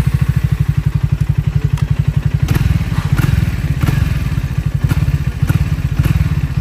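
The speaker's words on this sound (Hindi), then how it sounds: "एंड मैं अब इस बाइक को ऑन करता हूँ, अब T4 में आप इसका रिस्पॉन्स चेकआउट करूँ।" A Triumph Speed T4 motorcycle engine fires up and settles into a loud, steady idle thump close by, with a few sharp throttle blips raising the revs over about seven seconds, no talking.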